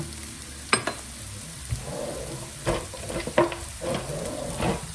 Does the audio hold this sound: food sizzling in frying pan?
yes